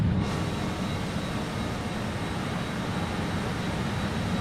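BAe 146 Lycoming turbojet engines in Microsoft Flight Simulator, a steady broad cabin roar with a low rumble and faint high whine, continuous and even throughout.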